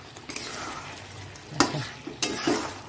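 Skin-on chicken stirred and fried in oil for kosha, a soft background sizzle punctuated by a few louder scraping strokes of a spatula against the pan, no talking.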